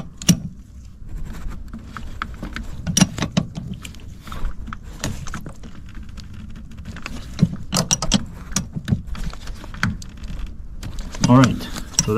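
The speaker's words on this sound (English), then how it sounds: "I got the lines connected to the expansion valve, so now we're gonna tighten these bolts over here." Bolts on the refrigerant line fittings at a car's new AC expansion valve are tightened with a ratcheting hand tool, producing irregular close metallic clicks and knocks over a low workshop rumble.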